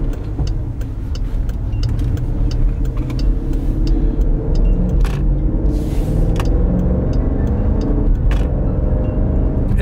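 A Jeep all-wheel-drive SUV accelerates in sport mode, its engine giving a loud, steady low rumble inside the cabin, with a few brief clicks and rattles over the drone.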